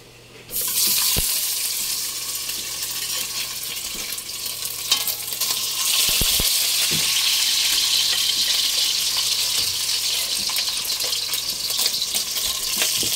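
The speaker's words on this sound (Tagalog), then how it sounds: "Iprito ko na lang." Battered quail eggs fry in a pan with a loud, steady sizzle that starts after a second and holds throughout, broken by a few sharp clinks and stirring knocks around the middle.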